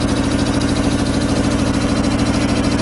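A 25 horsepower air compressor on single-phase 230–240 volt power runs steadily, a loud, continuous low mechanical drone with a throbbing pulse and no pauses, heard close by.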